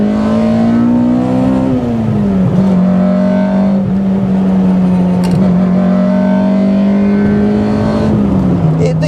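A Honda Civic VTi EG6 with a B16 DOHC VTEC engine revs hard through second gear in a loud, steady climbing drone from inside the car, with pitch dips at the shifts.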